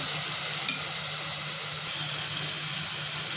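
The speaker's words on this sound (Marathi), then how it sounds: "ह्याच्यामध्ये मी अद्रक लसूण मिरची आणि कोथिंबीर त्याची पेस्ट टाकून घेते ते एक दोन मिनटं छान आपल्याला परतून घ्यायचे आहे" A paste of ginger, garlic, green chili and coriander sautéing in a pan, a soft, even hiss of frying that runs steadily throughout at close range, with one brief tap near the start and no voices.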